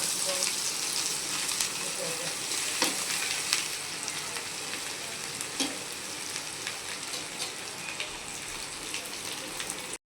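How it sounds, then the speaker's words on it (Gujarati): Garlic and chillies tempered in hot oil for a Gujarati stuffed gunda curry, giving a steady, moderately loud sizzle with faint crackles and occasional soft ticks throughout, no voices. "તેલ આવી જાય એટલે આપણે લસણ મરચાં અને વઘાર કરી દઈએ"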